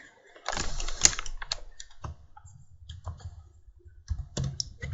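Keys clatter on a computer keyboard while text is typed into a CorelDraw design, a close, irregular run of soft clicks with short pauses between bursts.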